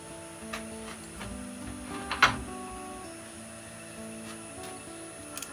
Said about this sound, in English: I'm just going to turn that lathe down because I think it's going far too fast